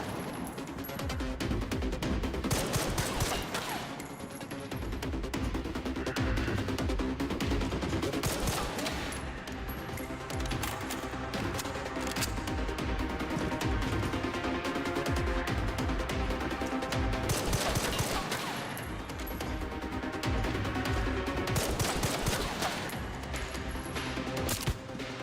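Sustained gunfire in a shooter video game, continuous automatic bursts layered with heavier volleys over about twenty-five seconds, loud and dense with little pause and occasional talk underneath.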